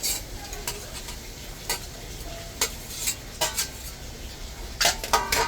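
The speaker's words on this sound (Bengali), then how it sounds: "ভাজা উস্তাটাও দিয়ে দিলাম।" Fried bitter gourd goes into a pot with bottle gourd and is stirred. Quiet sizzling runs under sharp, irregular clinks and scrapes of a utensil against the metal pot.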